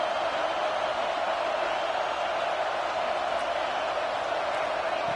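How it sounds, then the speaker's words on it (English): A stadium crowd at a football game gives a steady, dense roar of many voices in the early going, continuous and moderately loud throughout with no distinct individual words. "Listen to the crowd energy here in the early going."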